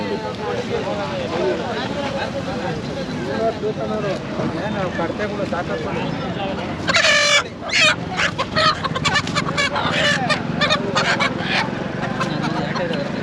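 Native country chickens and roosters at a Friday poultry market in Magadi, Bangalore cluck and crow nearby, with a burst of loud squawking and flapping midway, over a bustle of people talking.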